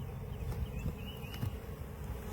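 Honeybees hum around the entrance of a backyard beehive, a steady, close, low drone with a few louder passes as individual bees fly near, and no voices.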